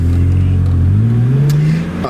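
A BMW Z4 roadster engine revs up loudly and rises in pitch as the car pulls away, a close, smooth climbing drone with no talk.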